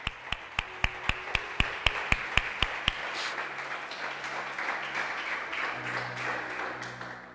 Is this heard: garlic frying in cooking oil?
no